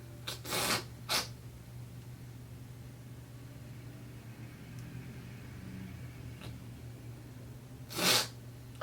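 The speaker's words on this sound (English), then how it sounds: "Had to sneeze for a second." Two quick sneezes close together near the start, then a third sneeze after a pause, over a low steady hum.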